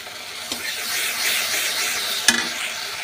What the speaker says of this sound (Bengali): শস্যটা যে ভাজা ভাজা হোক অল্প, যেহেতু সময় গন্ধটা চলে যাবে, তার জন্য যে শস্যটা ভেজে নিচ্ছি।